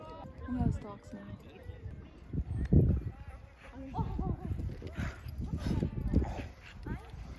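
Dogs bark and yip outdoors in irregular bursts, mid-distance, while people talk over them.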